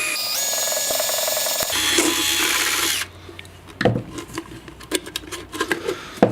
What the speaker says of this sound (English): It's kind of hard to drill into this now that it's a bit cut and not so stable.